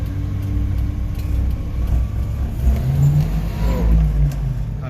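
A Subaru Sambar kei truck engine with a carburetor bog revs hard under throttle, a steady low drone holding at close range and rising slightly near the end, with no talk over it.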